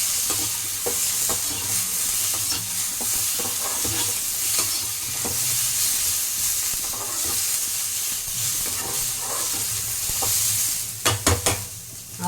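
Ingredients for a bone soup sautéing in a pan, a continuous close sizzle and hiss with periodic scraping stirs, and a few sharp clatters near the end.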